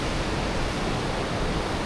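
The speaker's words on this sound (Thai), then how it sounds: "น้ำไหลออกมา" Water gushes in a cave, a dense, steady rushing roar that fills the space without a break, loud and close.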